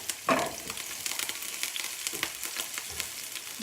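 Chopped serrano pepper frying in hot oil in a pan, a steady close sizzle with sharp crackling pops, loudest when the pepper first goes in.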